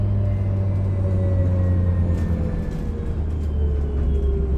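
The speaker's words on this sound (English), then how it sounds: "What the hell is with this electric bus? Very loud actually back here." Inside a Transperth electric bus on route 449, a loud, steady low rumble fills the cabin, with a faint whine gliding in pitch above it. Near the back there is a continuous drone and no talking.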